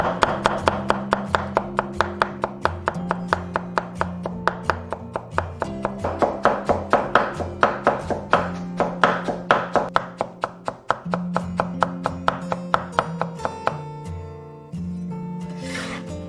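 A kitchen knife rapidly shredding potato on a cutting board, a fast, steady run of crisp close chops, loud and continuous with a brief pause near the end and no talking.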